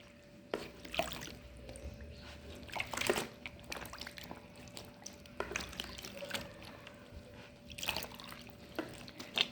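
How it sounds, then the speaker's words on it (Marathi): Cotton clothes soaking in a basin of water with dissolved salt and alum powder, giving soft intermittent drips, splashes and squishy liquid movements up close, with a faint steady hum underneath. "याच्यात ड्रेस भिजत घालायचे आहेत"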